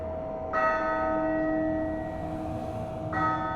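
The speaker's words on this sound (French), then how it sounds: "Soudain, minuit sonna à la cloche de l'église." A church bell strikes midnight with two resonant, ringing tolls about two and a half seconds apart, the first hanging on in a long shimmering decay.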